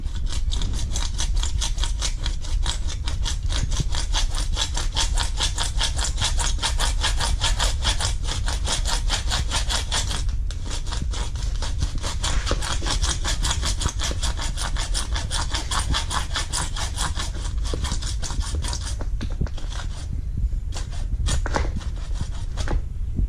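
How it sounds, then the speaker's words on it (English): A hand saw cuts through an ATV snorkel pipe in fast, steady back-and-forth strokes, close and loud, continuing evenly for over twenty seconds before slowing near the end. "And I'll hold the pipe. Go ahead and cut. Cut it as straight as possible"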